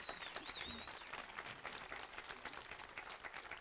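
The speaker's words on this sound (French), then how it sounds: "On applaudit très fort Alexandre." Faint applause from an audience greeting a man named Alexandre at a campaign-style televised event, a continuous patter of clapping that stays low and distant for a few seconds.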